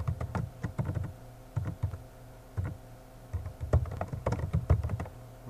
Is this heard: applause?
no